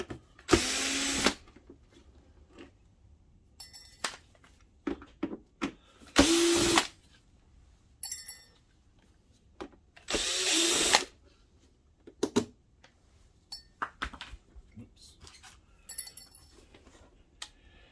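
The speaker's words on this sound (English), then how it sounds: "First thing we'll remove are these Phillips screws on the top." Phillips screws come out of a Mitsubishi HC2000 DLP projector case with an electric screwdriver, several short whirring bursts separated by quiet pauses and small clicks and handling sounds, close up with no talking.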